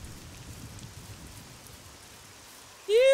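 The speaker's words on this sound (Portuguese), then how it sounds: "Nossa, mas tá chovendo brabo." Heavy rain falling in the survival video game SCUM, a steady broadband hiss and patter that holds throughout before a sudden louder tonal sound cuts in at the very end.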